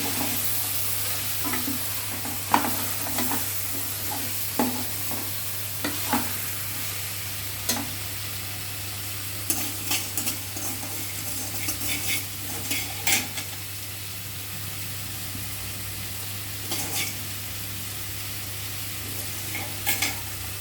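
Carrot, beans and sesame seeds frying in a pan on a stovetop for vegetable biryani, with a steady soft sizzle broken by repeated sharp scrapes and clinks of a spoon stirring against the pan.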